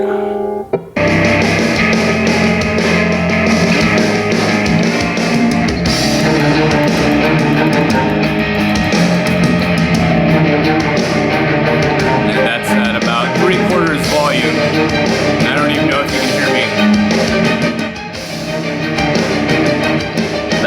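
Loud, full-band music plays continuously from a Dreamwave Tremor Bluetooth speaker, a song with steady beat and dense instrumentation, slightly compressed as if from a small speaker.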